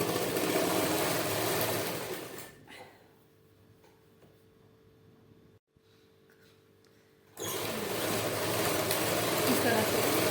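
A sewing machine stitches a belt onto a salwar, its whirring run loud at the start and again at the end, with a quieter pause in between.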